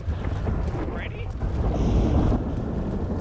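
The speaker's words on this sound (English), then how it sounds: "It's so loud, the thunder." Thunder in the game Dead by Daylight rolls as a loud, deep, continuous rumble that swells midway, with wind-like noise across the whole stretch.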